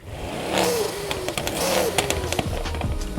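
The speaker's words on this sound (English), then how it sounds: "the noise it makes. It makes a nice little whoosh." Mercedes-AMG E63 S sedan engine revs with a whooshing air-intake rush, two swelling bursts that rise and fall, close and fairly loud, followed by lighter mechanical clicks and a lower engine rumble.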